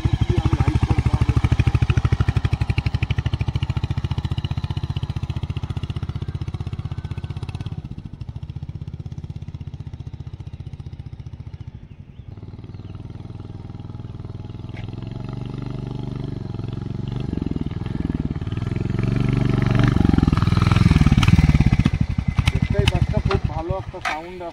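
A Royal Enfield motorcycle engine runs steadily after a 10,000 km service, a loud low rumble that swells and eases while the bike rides smoothly in first gear, with a rougher burst of revving near the end.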